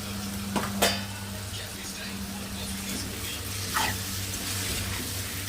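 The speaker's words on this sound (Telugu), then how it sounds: "చామదుంపలు వేసుకుందాం." Taro root pieces are tipped into a pan of spiced onion masala and stirred, with a couple of sharp clanks at the start, then a steady sizzle and occasional scraping strokes.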